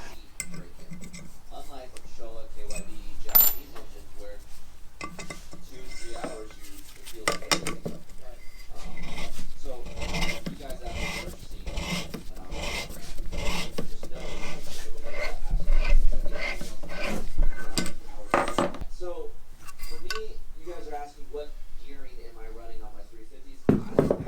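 An engine valve seat in a cylinder head being hand-cut to remove blemishes from piston fragments, giving repeated close scraping and rasping strokes in a rhythmic series, with someone talking between strokes.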